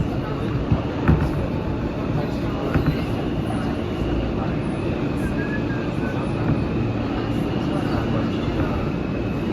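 An R160 E train on the New York City subway rides along with a steady loud rumble, rattle and whine, interrupted by occasional clanks.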